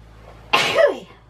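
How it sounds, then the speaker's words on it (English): One sharp, close sneeze bursting out of a quiet room, with a brief trailing vocal tail. "I'm going to sneeze."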